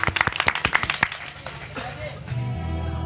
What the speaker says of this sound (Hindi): एक बार तालियां बजाकर सम्मान करें सभी